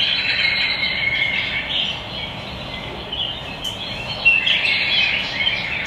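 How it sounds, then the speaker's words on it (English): A small falcon gives its alarm call, a rapid, accelerating series of strident, high-pitched notes, sustained and fairly loud over outdoor background noise. "Alarm call, a rapid, accelerating series of strident notes."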